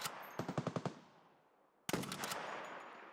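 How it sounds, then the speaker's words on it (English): Gunfire in the video game Escape from Tarkov, aimed at a Sniper Scav: a fast burst of about six sharp shots, a pause, then one loud blast with a long ringing tail, no talking. "they're shooting at the Sniper Scav"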